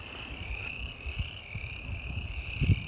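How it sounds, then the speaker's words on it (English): Frogs croak in a chorus outdoors in Colorado near Chama, a high steady trill running throughout with lower croaks popping up near the end. "You hear the frogs."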